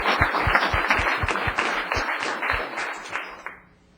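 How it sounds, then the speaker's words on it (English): Applause from a small audience at a town council meeting, individual claps distinct and fairly close, steady for about three and a half seconds before quickly dying away. "I think that deserves a round of applause."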